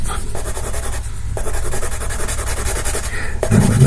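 Pastel pencil dust being rubbed into paper while drawing a portrait, a close, steady scratchy rubbing with short back-and-forth strokes and brief pauses, heard alone without talk.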